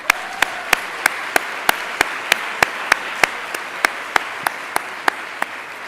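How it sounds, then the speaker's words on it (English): A master's graduation audience at IE claps for the winners, with a steady, fairly loud round of applause from a big crowd. Sharp individual claps stand out at a regular rhythm above the dense wash. "Let's give you guys another round of applause."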